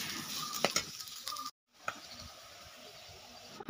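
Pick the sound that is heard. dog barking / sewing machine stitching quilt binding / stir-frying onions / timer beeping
stir-frying onions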